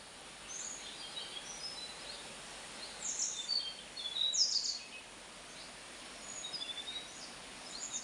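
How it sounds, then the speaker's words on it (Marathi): Several small birds chirp and call in short high bursts around the Kadjai Mata temple amid green countryside, fairly faint and intermittent over a quiet outdoor background. "इथं पण हा पक्ष्यांचा आवाज पण तुम्ही ऐकू शकताय."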